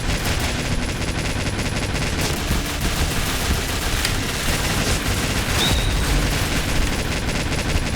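Dense, continuous gunfire from the shooter game Point Blank, with rapid automatic bursts and booming shots layered into a loud, unbroken battle din throughout.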